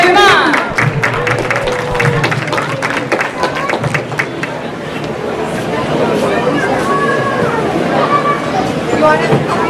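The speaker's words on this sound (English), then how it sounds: "One more big round of applause." Audience at a junior livestock show giving a round of applause, clapping loud and scattered at first, then blending into crowd chatter and babble, with a voice speaking over the noise.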